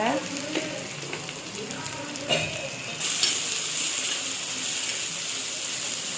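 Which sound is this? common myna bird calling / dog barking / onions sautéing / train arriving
onions sautéing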